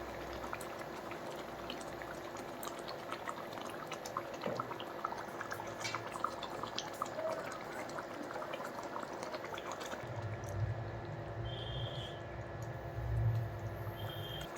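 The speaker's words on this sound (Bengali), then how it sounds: "ঝোল ফুটে গেছে" Fish curry gravy with methi and rohu simmering in a pot, a soft, continuous bubbling hiss of boiling liquid, quiet and steady, with a few brief clinks near the end.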